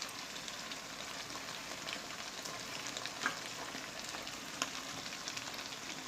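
Chicken karahi stirred in a pan, frying and sizzling steadily with a soft crackling texture and a few brief sharper clinks of utensil against the pan, and no voices.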